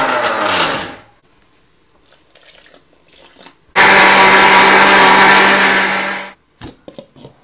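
Mixer grinder grinding a thick spice paste for a Nagarkoil fish meal: a brief whir at the start, a pause with small handling noises, then a loud steady high-pitched grinding run of about two and a half seconds that stops abruptly, followed by light clinks.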